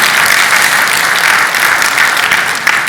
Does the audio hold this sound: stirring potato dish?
no